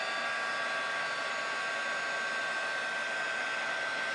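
A heat embossing tool blows steadily over a papercraft scrapbook layout, giving a continuous hair-dryer-like whoosh and whine that holds at the same level throughout, close up and with no talking.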